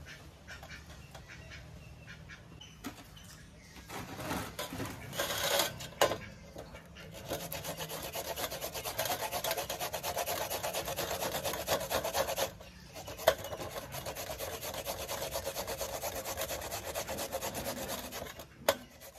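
Cassava (tapioca) root being grated by hand for vadai, a steady rasping, scraping rub that repeats in quick strokes at close range, with no talking over it.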